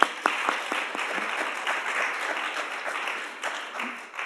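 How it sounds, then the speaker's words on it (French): An audience at a museum digital-transition conference applauds, sustained clapping from a seated crowd at moderate loudness, fairly even throughout with a few sharper claps near the start. "Alors est-ce qu'il faut l'applaudir peut-être"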